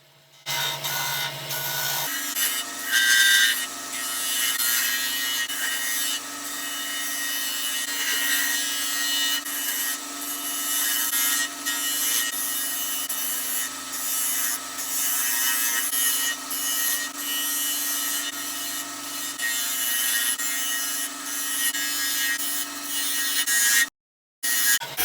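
A skew chisel shaving the sides of a wooden napkin ring spinning on a lathe, giving a steady, close scraping hiss over the hum of the machine, continuous for most of the stretch with a brief cut-off near the end.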